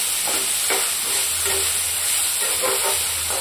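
Vegetables frying in oil with cashews and raisins for a pulao, a steady close sizzle and hiss with occasional stirring scrapes, no voices.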